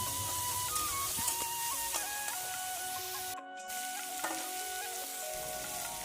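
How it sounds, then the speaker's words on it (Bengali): Bottle gourd dropped into hot oil with whole-spice tempering, sizzling and frying steadily with a fine crackle throughout, with a brief dropout partway through. "এই যে তেলের মধ্যে যে ফোড়ন দিয়েছি তার মধ্যে লাউটা ছেড়ে দিলাম"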